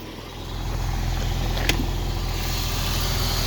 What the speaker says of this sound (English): Engine runs very well.